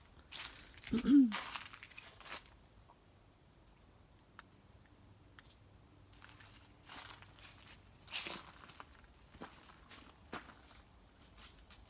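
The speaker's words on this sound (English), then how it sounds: "Just feel the crunch of the leaves." Footsteps crunching through fallen sycamore leaves on a cold evening outdoors near a cottage, a few close, loud crunchy steps early on, then quieter scattered rustles and crackles with long near-silent gaps.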